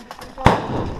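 An airsoft grenade goes off inside a building during close-quarters airsoft play, a single sharp pop with a short noisy tail, heard at moderate distance amid the surrounding game.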